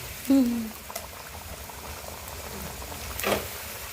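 Satay frying in hot oil at a late-night food stall, a dense bubbling sizzle that runs steadily, with a brief voice and a few clinks over it.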